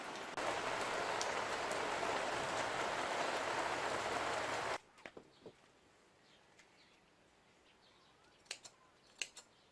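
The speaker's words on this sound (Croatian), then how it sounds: "I opet kiša." Steady rain hisses down over a village house and garden for about five seconds, then stops abruptly, leaving a quiet scene with a few faint clicks and several sharp close taps.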